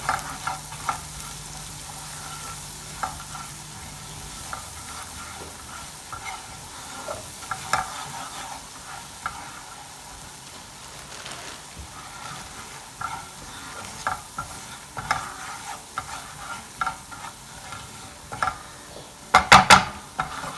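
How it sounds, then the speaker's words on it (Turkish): Cornmeal roasting in a pan for kuymak, a soft continuous sizzle broken by repeated spoon-stirring scrapes and taps that grow busier toward the end, with a few sharp clinks at the close and no talking. "2 kaşık mısır unu ilave ettim. Ve güzelce kavuracağım."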